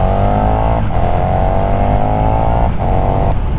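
A 2020 KTM 1290 Super Duke R motorcycle accelerating hard out of a corner, a loud close engine roar climbing in pitch with two quick shift breaks, continuous and alone without talk.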